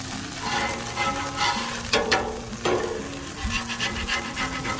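Tortillas cooking on a hot griddle give a steady close sizzle and frying crackle, with a few sharp scraping or rasping sounds from turning them partway through and low thuds underneath.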